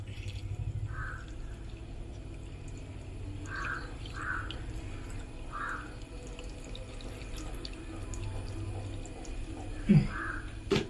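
Cooled boiled water pours from a vessel into a container of pineapple pickle with salt, vinegar and sugar, a soft continuous trickle broken by faint splashes and a louder clunk near the end.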